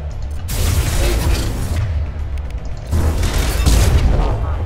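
Gunfire in Mass Effect 2 during a squad fight, loud dense volleys in two bursts with a short lull between, booming low end and mechanical clatter, with a voice briefly heard under the shooting.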